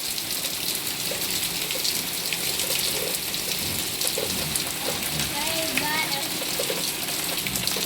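Heavy monsoon rain pours down steadily outdoors, a dense continuous hiss of water with occasional faint birdsong and distant voices underneath.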